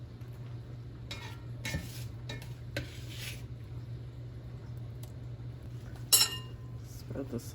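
A utensil scrapes and clinks against a dish while spreading sausage over an egg casserole, with a few scattered taps and one sharp clink near the end over a constant low hum.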